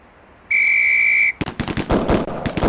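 Sharp whistle blast at a police academy firing range in Police Quest SWAT, a loud sustained tone lasting under a second, followed at once by a rapid burst of gunshots.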